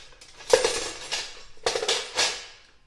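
Pasta being tossed with rocket and pistachio pesto in a bowl, with a utensil clattering and scraping against it in two noisy bursts, close and fairly loud, with no talking.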